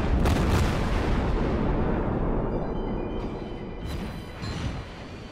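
Warship guns firing in the naval video game World of Warships, a loud booming salvo with a rumbling tail and a few smaller follow-up blasts, no talking over it.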